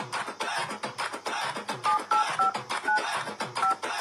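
Telephone keypad tones, about six short dial beeps spaced irregularly, heard over a continuous busy background of rhythmic noise.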